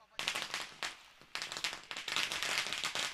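Firecrackers go off at the opening ceremony of a cricket tournament, a rapid series of sharp, crackling bursts and pops that come close together and fairly loud, with short gaps in between.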